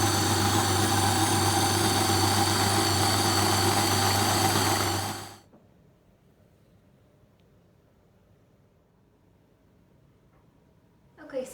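A blender whirs loudly and steadily while grinding almonds into smooth almond butter, then cuts off abruptly, leaving near silence.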